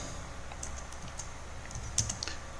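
Quiet, close keystrokes on a computer keyboard tap out in an irregular patter over a faint steady hum, with a slightly louder cluster of clicks near the middle; no one speaks.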